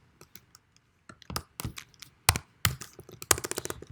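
PHP code being typed on a computer keyboard, sparse clicks at first building into quicker, irregular runs of crisp keystrokes, close and moderately loud, no talking.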